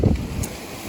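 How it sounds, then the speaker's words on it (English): A strong wind during a heavy rainstorm, with a brief, close gust buffeting the microphone as a low rumbling whoosh that fades within a second. "It has just gotten so windy out."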